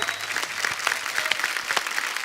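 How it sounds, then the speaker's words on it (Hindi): A studio audience at a TV comedy show breaks into loud, steady applause, dense clapping filling the room without pause. "जोरदार तालियां हुमा और साकिब के लिए।"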